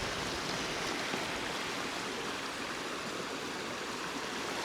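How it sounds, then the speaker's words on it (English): A small mountain stream in the Lake District babbles and rushes in a continuous, even wash of water, moderately quiet and unbroken, with no one speaking. "we've just got to this lovely little stream"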